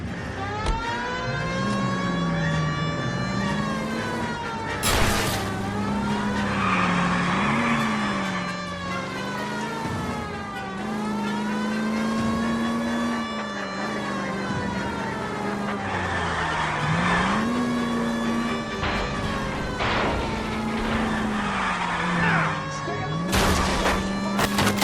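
Car engine in the 1940s Los Angeles game L.A. Noire, droning steadily throughout with a rising and falling pitch as it accelerates and shifts, joined by brief tire squeals and a siren-like wail in a continuous pursuit drive.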